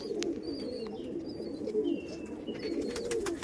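Madras pigeons cooing in a home loft, a low, continuous murmur of overlapping coos at moderate distance with a few faint higher chirps, no talking.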